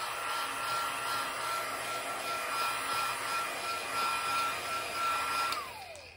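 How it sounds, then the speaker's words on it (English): A craft heat tool blows hot air over inked cardstock, a steady close whirring hiss with a faint high whine that holds for several seconds, then winds down at the end. "give it a small blast of heat from my heat tool"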